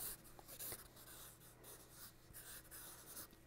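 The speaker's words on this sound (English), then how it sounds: "So I'm gonna do a little drawing here." A pen scratches across a sheet of paper in a quiet room, making faint, irregular strokes and scribbles heard close up, with no talking.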